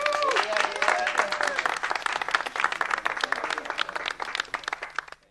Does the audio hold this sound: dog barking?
no